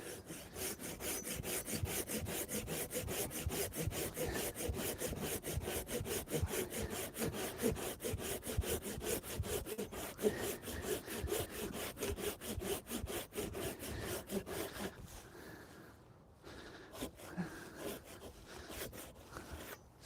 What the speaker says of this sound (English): Some nice ASMR sawing sounds for you.